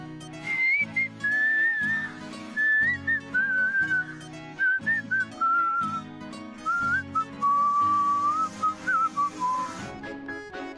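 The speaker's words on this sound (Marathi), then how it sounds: "मग आपण शिट्टी वाजवायची." A person whistles a wandering, melodic tune in long sustained phrases over a steady musical backing, bright and close throughout.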